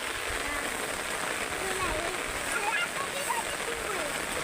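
Steady rain falls on rice paddy fields during the monsoon, a continuous broadband hiss with soft splashes throughout, close and fairly loud with no clear breaks.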